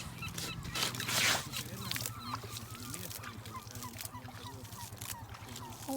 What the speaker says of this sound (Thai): บรรยากาศดีจังเลยได้ยินเสียงนกร้อง